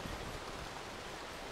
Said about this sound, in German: ist das schön hier mit dem Wasserfall.